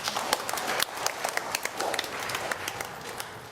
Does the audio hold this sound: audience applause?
yes